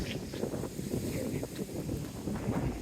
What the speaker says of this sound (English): Seawall, and it's a windy one again, as you can tell.